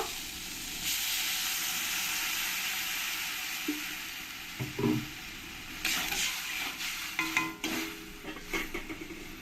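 Water goes into a pan of fried potatoes, setting off a steady loud hiss of sizzling steam. Later come a few clinks and stirring scrapes.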